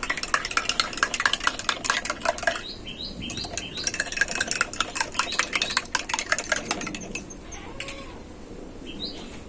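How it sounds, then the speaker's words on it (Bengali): A homemade sprite drink being stirred briskly, a fast, close run of rhythmic clinking and scraping strokes that pauses, resumes, then trails off into quieter background with a single sharp tap near the end. "খুব ভালো করে মিশিয়ে নেব।"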